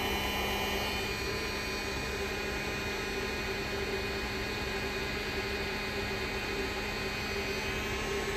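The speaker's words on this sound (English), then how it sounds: "If I hit it with this heat gun, it drops right away." A heat gun blowing hot air onto an engine temperature sensor clamped in a vise, a loud, steady close-up roar of rushing air with a faint constant whine, unbroken throughout.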